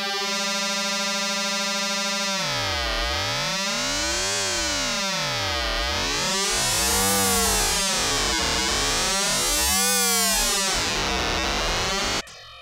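A synthesizer sine wave oscillator with triangle LFO vibrato on an Antimatter Audio Crossfold module, starting as a steady tone, then sweeping up and down in repeating arcs, growing louder before cutting off abruptly.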